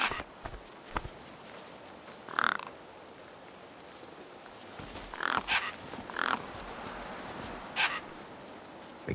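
Crows caw in the video game Beyond a Steel Sky, with several harsh calls scattered over an outdoor ambience. The calls are moderately close, some in quick pairs, with no voices.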